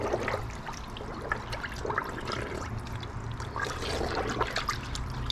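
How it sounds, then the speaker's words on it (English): Towels soaking in a bucket of Optimum No Rinse wash solution, water sloshing and trickling continuously with small splashes, close and moderately loud, with no talking. "Just good to let your towels soak up all that water."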